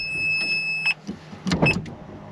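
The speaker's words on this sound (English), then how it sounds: "force the F1 pump to kick in by simply putting some power to the car" The F1 gearbox hydraulic pump of a Ferrari 430 Scuderia makes a faint high electric whine that hums steadily, then cuts out amid a few clicks and mechanical clunks, followed by a brief return of the whine.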